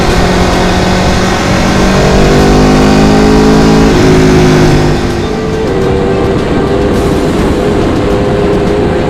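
A 2020 Aprilia RSV4 RR superbike engine revs hard close by, its loud exhaust note climbing in pitch then dropping back to a rough, popping idle over several seconds, with no talk.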